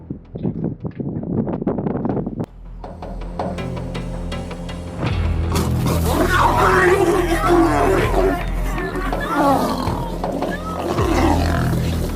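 Three lions roar and snarl loudly while squaring off against a rhino, rough growling bursts rising over wind and background noise after a narrator's voice at the start.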